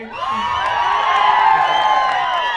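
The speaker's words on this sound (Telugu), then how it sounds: "మా ప్రొజెక్టర్ పైకి అందరు క్లాప్స్ కొట్టండి ఒకసారి" A theater audience at a blockbuster film's success celebration cheers and whoops together, a loud continuous wall of voices with high shouts rising over the crowd.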